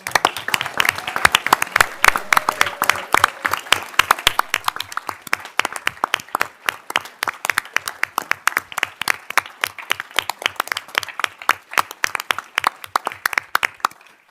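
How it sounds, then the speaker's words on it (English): Audience applause at a village board of trustees meeting honoring a high school boys soccer state championship team, a dense, steady round of clapping from a room of people that thins slightly toward the end, with no talk over it. "Let's give them a round of applause."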